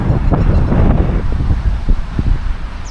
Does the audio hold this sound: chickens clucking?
no